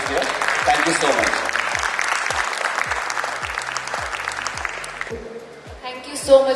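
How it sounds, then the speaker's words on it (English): An audience at a circular economy panel discussion claps for the panelists, with dense applause over a thumping music beat. The clapping stops abruptly after about five seconds, leaving other brief sounds. "I want you to give a big round of applause to all our panelists here."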